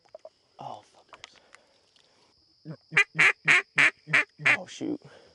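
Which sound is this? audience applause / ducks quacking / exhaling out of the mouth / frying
ducks quacking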